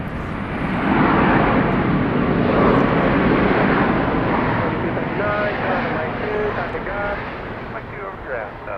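Airliner taking position on runway 13 left at Dallas Love Field, a loud, steady broadband engine roar with wind buffeting, continuous throughout, with faint radio chatter underneath.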